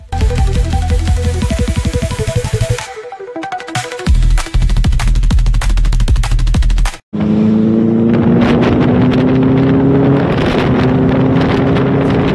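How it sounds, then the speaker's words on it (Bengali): A loud Benelli 600i superbike engine roars up close, revving in pulsing bursts, dropping out briefly, then rising again in a strong, climbing whine as it accelerates. "সুপার বাইকের সাউন্ড পুরো ক্রেজি গাইস"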